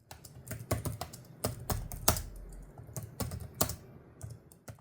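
Fingers tap away on a laptop's full-size, white-backlit keyboard, crisp irregular keystrokes in quick bursts with short pauses, close and clear with no voices.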